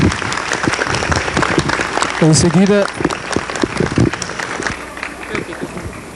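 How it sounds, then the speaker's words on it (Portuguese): Crowd applause for a man honored at a gathering in Toritama, a dense, loud wash of clapping filling the whole stretch, with a voice speaking over it midway before the clapping thins toward the end. "Receba as palmas de Toritama"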